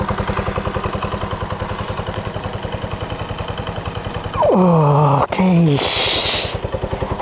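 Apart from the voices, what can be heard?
motorcycle engine running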